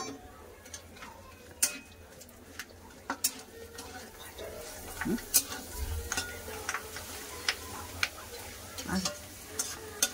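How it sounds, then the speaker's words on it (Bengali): Papad fry in hot oil in a pan with a steady soft sizzle, broken by scattered sharp ticks and light utensil taps, fairly quiet and close. "পাঁপড়গুলো ভেজে তুলে না আবার দিয়ে দিলাম।"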